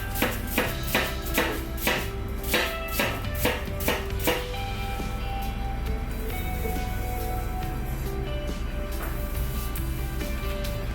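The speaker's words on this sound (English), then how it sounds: "So first I'm going to chop this onion." A knife chopping an onion on a board, a quick run of sharp, evenly spaced knocks for the first few seconds that then give way to softer, scattered cutting and a steady background hum.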